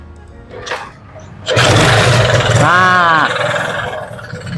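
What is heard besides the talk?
old motorcycle engine kick-started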